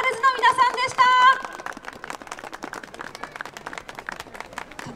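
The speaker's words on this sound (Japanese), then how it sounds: "皆さん改めまして今日一番の大きな拍手をお送りください。" Audience applause at a stage show during the Sapporo Snow Festival, starting after a brief musical jingle and continuing as scattered, moderately close clapping with a voice speaking over it.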